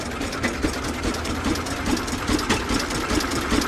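Antique Avery tractor with a two-cylinder opposed engine running at a tractor show, a steady, loud, close chugging idle with an uneven knocking rhythm throughout.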